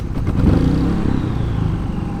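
A Harbor Freight 3500W generator starts up and settles into a steady engine drone, close and loud, with no talking.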